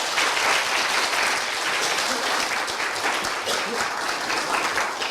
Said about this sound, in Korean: 일단 박수부터 주시죠.